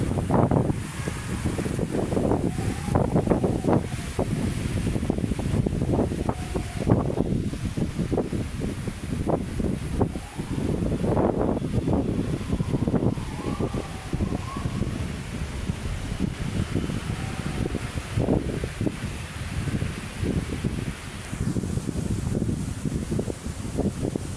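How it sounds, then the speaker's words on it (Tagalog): Strong wind at Manila Bay roars and buffets the microphone in heavy rumbling gusts, a constant rushing noise throughout. "Lakas ng hangin, guys. Napakalakas ng hangin."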